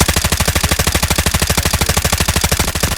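Rapid automatic gunfire in the mobile shooter Delta Force Mobile, a loud continuous burst of evenly spaced shots over about three seconds, with no voices.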